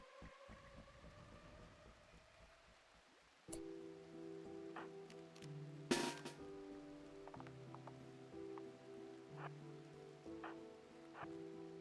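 Blood Rain in RimWorld patters steadily across the scene, a soft constant hiss beneath tonal game music that kicks in partway through, with a few sharp ticks and no speech.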